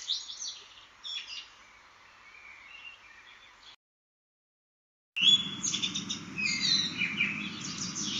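Recorded bird song with bright chirps and warbled phrases, broken by a brief silence and then resuming louder over a low background hum.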